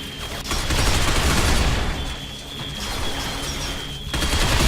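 Semi-automatic gunfire in the shooter Binary Domain, a dense roaring stream of rapid shots that swells, dips and surges again, loud and close over a steady high electronic tone, with no talking.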